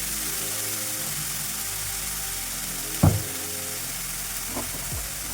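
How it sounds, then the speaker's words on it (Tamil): Bitter gourd sautés in a pan for a South Indian stir fry, with a constant even sizzling hiss and a couple of sharp knocks of a utensil against the pan partway through. "இப்போ இதை நல்லா வதக்க விடணுங்க"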